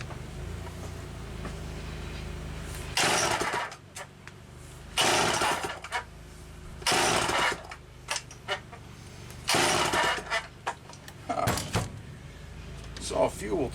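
A small engine fitted with a C-52 carburetor is cranked repeatedly in short bursts and fails to catch, each pull a brief rough sputter against quiet pauses, close by with occasional faint talk.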